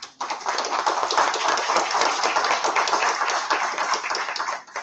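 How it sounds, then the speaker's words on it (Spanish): Courtroom audience applauding to welcome a speaker at a legal lecture, dense steady clapping from many hands that fades out at the end, with no voices over it. "pido un cariñoso voto de aplausos"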